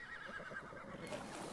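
A horse in the mobile game ARK whinnies in a quick, quavering neigh over a faint bed of game sound and hoof clops, quiet and brief.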